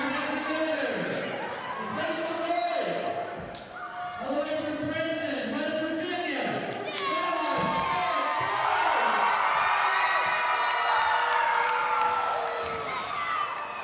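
A wrestling crowd at an NWA Mountain State show boos and jeers Chris Collins with loud, sustained shouting, whistles and children's yells, while a commentator talks over the noise.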